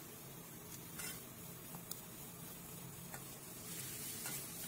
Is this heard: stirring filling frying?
yes